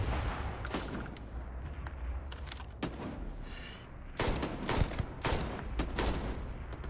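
Video game gunfire in Starfield rings out in rapid bursts of sharp shots and volleys over a dense background din, loud and repeated across the whole stretch.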